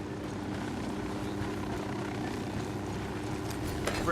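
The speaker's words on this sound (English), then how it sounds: "Chopper, down." A helicopter in Ghost Recon Wildlands drones steadily with a rapid low rotor thrum, fairly close and constant, with a faint sharp sound right at the end.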